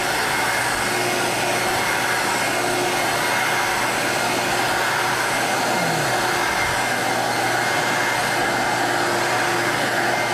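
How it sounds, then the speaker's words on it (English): A carpet cleaning machine runs with a steady, loud whirring suction roar as its wand scrubs back and forth over carpet, continuous throughout with no talking. "when I'm cleaning with this wand, you have to be hunched over and scrubbing back and forth"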